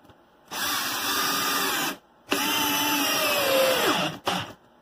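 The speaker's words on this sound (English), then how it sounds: "With a Torx bit, I'm going to run a 3-inch construction screw." Teccpo 12V cordless drill on speed 2 driving a 3-inch construction screw with a Torx bit, two close whirring runs separated by a short pause, the second dropping in pitch as the screw seats, then a brief final burst.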